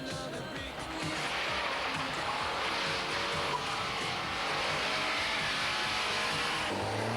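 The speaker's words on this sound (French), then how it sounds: "vous pouvez aussi conduire la Lancia Delta intégrale sur la route" A 1988 Lancia Delta Integrale driving on the road, a loud continuous engine and road roar that stays steady for several seconds, close and alone with no talking.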